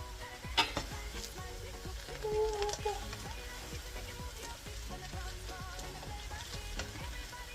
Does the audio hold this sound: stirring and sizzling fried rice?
yes